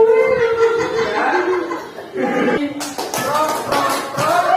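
Children do a police-themed clapping chant with three claps, sharp bursts of clapping that follow a voice and giggling, then several quick crisp claps mixed with laughter and chatter.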